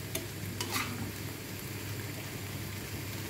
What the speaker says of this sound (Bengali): মাছ ভাজাটা আমার মোটামুটি হয়ে গেছে।